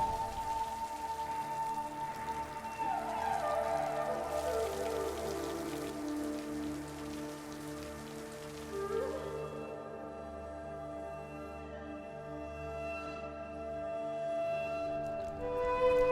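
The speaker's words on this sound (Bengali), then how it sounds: "থামবে মনে হয় এবার বৃষ্টি।" Steady rainfall patters on surfaces in a drama scene, a soft, continuous hiss at moderate distance with sustained tonal music underneath and no voices.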